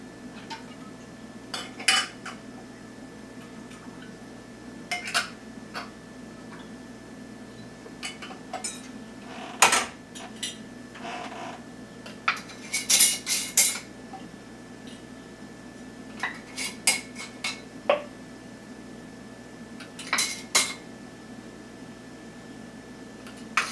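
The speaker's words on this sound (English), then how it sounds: "wipe the rim with white vinegar. And I'm going to put the lids on." Lids being set onto jars of hot rhubarb juice, scattered light metallic clinks and taps of glass and metal over a low steady background hum, no one speaking.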